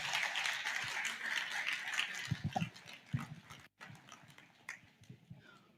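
An audience at a presidential debate applauds its moderators, a broad wash of clapping that fades out after a couple of seconds, leaving scattered thumps and faint room noise.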